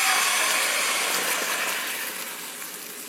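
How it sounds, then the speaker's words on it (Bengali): Coconut milk pours into a large hot frying pan with a loud, broad hissing sizzle that gradually fades over a few seconds; nothing else is heard. "কোকোনাট মিল্কটা দিয়ে দিলাম।"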